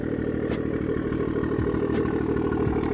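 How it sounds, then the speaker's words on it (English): A 500HP BMW 340 engine idles steadily with a deep, even burble and light mechanical clatter, heard close and alone without talk. "Listen to that idle."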